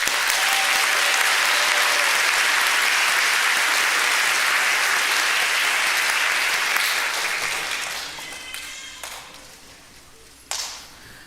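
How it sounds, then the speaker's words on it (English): Loud sustained applause from a large crowd at a nursing pinning ceremony, dense and even for several seconds before thinning out and fading, with a few scattered claps and a short sharp noise near the end. "more round of applause"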